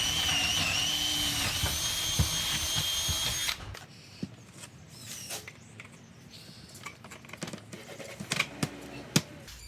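A power drill bores a hole through the middle of a plywood sheet for building arches. A loud, close whine lasts about three and a half seconds, then gives way to quieter scattered knocks and handling noise.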